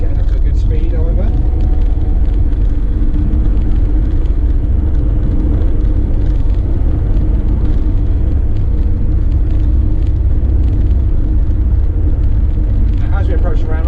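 A 2016 Volkswagen Crafter dropside truck with a 4.3 m bed accelerates on the road, its engine a steady loud rumble with road and wind noise filling the whole stretch and a voice talking over it.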